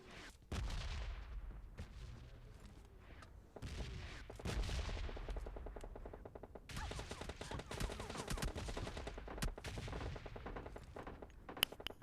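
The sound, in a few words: gunfire in video game PUBG Mobile Lite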